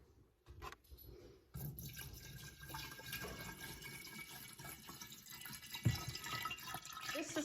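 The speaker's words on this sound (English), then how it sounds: "And then you fill it up with your water." Water runs from a tap into a glass jar holding pickling lime, a quiet continuous pour that starts after a brief pause and fills steadily with a faint rising trickle.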